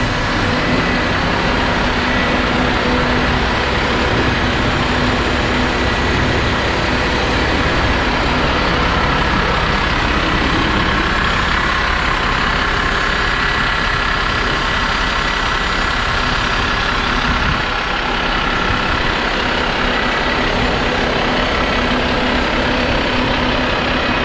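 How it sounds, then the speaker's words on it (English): Diesel engine of a Wright StreetDeck double-decker bus on a test drive, a loud continuous rumble and whine heard from on board, steady for the whole stretch with no talk. "We've taken the opportunity to test drive this vehicle and have a good look at it before it gets repainted and goes into service with First Bus."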